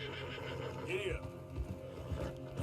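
A horse in Red Dead Redemption 2 whinnies once, high and sharp, over a rumbling hoof-and-movement bed, with a voice speaking beneath, followed by a few dull thuds of hooves.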